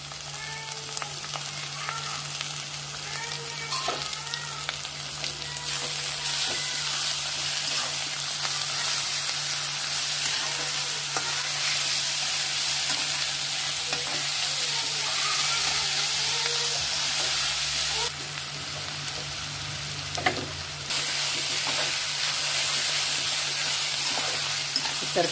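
Capsicum, onion leaf and potato fry in a pan for idli upma, a loud continuous sizzle with intermittent stirring scrapes running steadily throughout, briefly brightening near the end.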